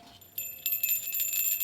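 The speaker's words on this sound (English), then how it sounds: "I think I'll try the larger bells." Larger jingle bells cut from a craft-store strand shake and ring for a Christmas wood project, a bright continuous shimmer that starts quietly and swells up close with no talking.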